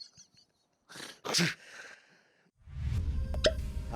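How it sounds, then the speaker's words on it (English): A sharp, close sneeze bursts out after a quick inhale, followed by a rustling noisy tail. "When someone sneezes on you"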